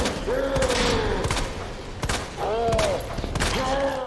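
Gunfire in the Resident Evil 2 Remake video game comes as several sharp shots in quick succession, with a creature's cries between them and a voice speaking quietly underneath.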